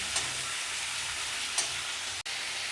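Vegetables for a katla fish curry with pumpkin and sweet potato sizzle steadily in a pan. The hiss is soft and continuous, with a couple of faint stirring clinks and a brief dropout near the end.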